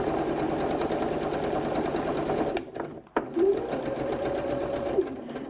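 A sewing machine stitches fabric in a steady, fast mechanical whir. It stops briefly midway with a couple of sharp clicks, then starts again at a close, even level.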